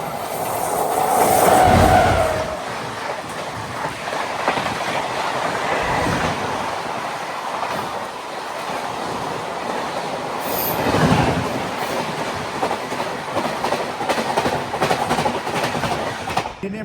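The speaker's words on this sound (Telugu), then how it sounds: "ఏ ట్రైన్ తెలుసా? Millennium super fast express." The Millennium Superfast Express, running from Hazrat Nizamuddin to Ernakulam, rolls past with a continuous loud rumble. Rhythmic clickety-clack and occasional wheel squeal swell and fade over several seconds.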